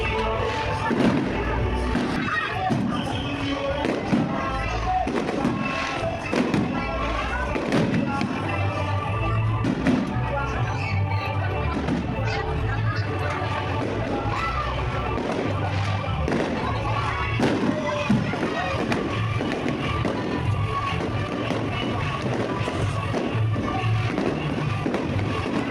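Fireworks burst outdoors in a series of irregular thumps and pops, some close and heavy, mixed with crackling, while people talk over the noise.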